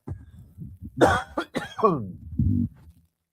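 A person coughs several times in quick succession, close and loud, with some throat noise before and after.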